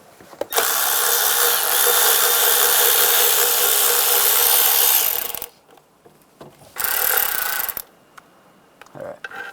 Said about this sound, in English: You got to take those two bolts out. You're going to use a 10mm socket.